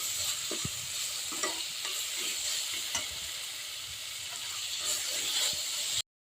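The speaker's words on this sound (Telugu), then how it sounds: "అల్లం పేస్ట్ వేసుకొని ఇది కూడా ఫ్రై చేసుకుందామండి" Steady loud sizzling of ginger-garlic paste frying with onions in a hot pan, with occasional scraping and stirring clicks, ending abruptly.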